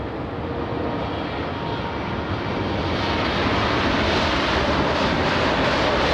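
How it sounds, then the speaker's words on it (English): A United Airlines jet arriving at LAX from London roars steadily and close, a broad, loud engine rumble that swells slightly toward the end with no voices. "We have United Airlines 935 flying in from London."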